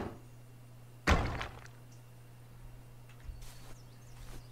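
Stone-hurling catapult in the Trials of Wilderness survival game lets fly with one sudden heavy thunk near the start, trailing off into quiet ambient hum with faint distant rustles.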